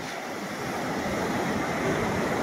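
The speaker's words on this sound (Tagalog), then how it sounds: "Dahil medyo malalaki yung alon." Big surf rolls onto a beach used for surfing in the late afternoon, producing a steady, hissing roar that swells slightly toward the end, with a little wind noise on the microphone.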